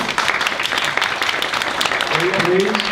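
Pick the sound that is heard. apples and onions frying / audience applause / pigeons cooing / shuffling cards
audience applause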